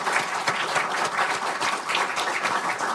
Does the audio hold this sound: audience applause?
yes